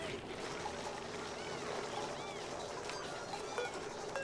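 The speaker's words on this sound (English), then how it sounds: "Bottle emptier here to dump water." A bottle emptier in the video game Oxygen Not Included dumps water, giving a steady, continuous gush of pouring and splashing that holds at an even level throughout.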